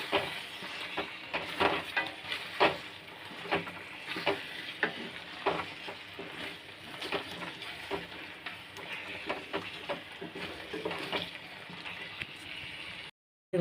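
Cut pointed gourd (potol) pieces fry in oil in a pan for curry, a steady sizzle broken by frequent scraping stirs of a spatula at a close, moderate level, with no talking.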